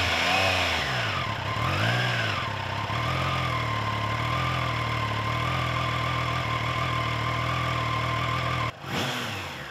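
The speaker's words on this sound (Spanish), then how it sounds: "Al ponerla en marcha, un regalo para los oídos, la melodía única del tres cilindros de Triumph" A Triumph Trident 660 three-cylinder motorcycle engine fires up and revs, its note rising and falling in loud sweeps before settling into a steady, throaty run close by, then briefly dipping near the end.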